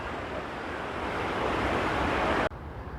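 A river churning below a dam in spring gives a steady, loud broadband roar of rushing water that barely varies before dropping in level near the end.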